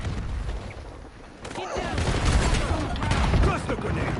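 Cluster grenade explosions in the video game Black Ops 7, a rolling series of booms and crackling blasts that builds in loudness, mixed with gunfire and a voice talking over the action.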